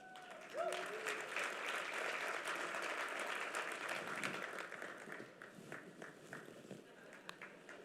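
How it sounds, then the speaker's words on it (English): Audience applause greets a newly introduced partnership CEO at an evening event, a dense wash of clapping that swells near the start, holds steady, then thins into scattered claps toward the end. "he wants a louder round of applause, clearly"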